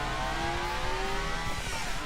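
Racing game car pulling away with heavy wheel spin, a steady loud engine drone with rising pitch lines, continuous and close throughout.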